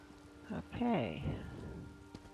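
Rain patters as a soft, continuous wash in a video game scene, briefly overlapped by a short voiced utterance.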